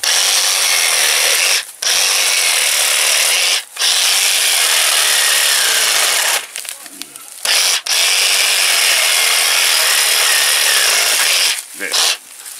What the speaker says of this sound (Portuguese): Eu vou cortar mais essas três e mostrar para vocês como trabalha bem a serra de sabre.